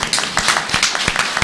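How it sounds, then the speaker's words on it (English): Applause at a school board of trustees meeting welcoming a new school superintendent, many hands clapping in a dense, steady patter with sharper individual claps standing out. "Dr. Green, let's give him a big rousing round of applause."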